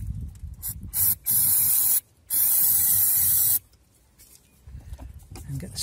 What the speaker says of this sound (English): What I've got here is some brake cleaner, and I'm just going to spray this on